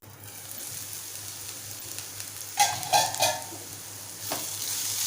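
Sprouted moong curry simmers under a lid on a low gas flame, giving a faint steady sizzle with a few brief louder bubbling bursts near the middle and end.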